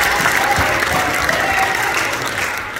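A church congregation applauds at a service, a loud, dense burst of clapping that holds steady and eases slightly toward the end, with some crowd voices mixed in.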